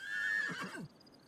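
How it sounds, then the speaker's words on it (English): Horse in the video game The Sims 3 giving a single close whinny that rises and trails off, then quiet. "Come on, you dumb horse."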